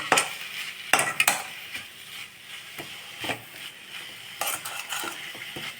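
Fenugreek leaves and lentil usili crackle softly in a pan as a spatula scrapes and tosses them in irregular strokes, with a faint sizzle throughout, close but fairly quiet and without speech.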